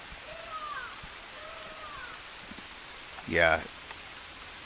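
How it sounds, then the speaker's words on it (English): Rain falls at night in the jungle survival game Green Hell, a soft continuous patter with faint distant calls, while someone says a short word over it. "Alright, it's middle of the night. It's raining."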